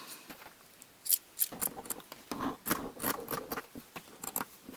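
Scissors snip through fabric to cut out a square neckline facing, a series of close, crisp, irregular cutting crunches and slides over a quiet background.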